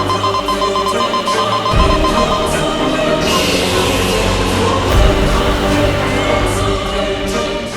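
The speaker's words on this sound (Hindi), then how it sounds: "ये तो वीर लोग का सिक्योरिटी अलार्म है।" Continuous electronic security alarm ringing loudly throughout, a steady repeating bell-like tone layered over dramatic background music and effects in a fantasy TV action scene.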